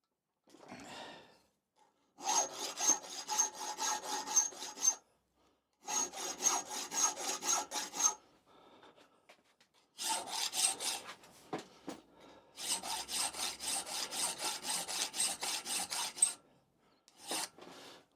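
A metal part held in a bench vise is hand filed in four long bursts of rhythmic rasping strokes, close and clear, with short quiet gaps and light breathing between them.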